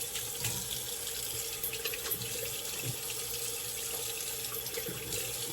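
Water running steadily from a bathroom tap into a sink while rinsing after a wet shave: a continuous close hiss and splash, faint and unbroken, with no talk.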